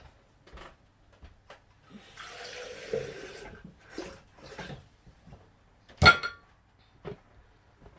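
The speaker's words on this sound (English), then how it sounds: "what I'm going to do is put roughly about 100 ml of water in this" Water runs from a kitchen tap into a container as about 100 ml is measured out for a bolognese, a short hissing stream that stops, surrounded by scattered clinks and handling knocks.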